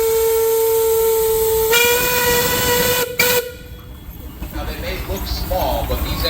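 A steam engine whistle at the Sycamore, Illinois steam power show gives one long, loud, steady blast for about three seconds, then cuts off into a rush of hissing steam and background crowd noise.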